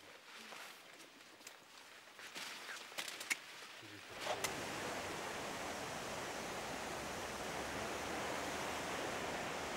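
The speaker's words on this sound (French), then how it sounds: "Vous voyez la cascade ? Elle sort en dessous de mes vignes." A waterfall below a vineyard roars steadily as a broad wash of rushing water, growing louder and fuller after a few seconds of quieter rustling and scattered knocks.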